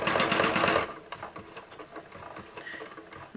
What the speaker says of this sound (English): So now I'm going to sew a bar tack.